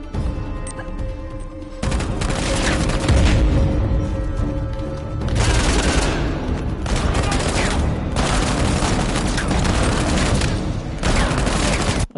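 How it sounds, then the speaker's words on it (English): Shotgun blasts in an Uncharted firefight, heavy booming shots with crashing reports and rattling gunfire layered over a dense, loud battle din, and no pauses of quiet between volleys. "This bloody shotgun"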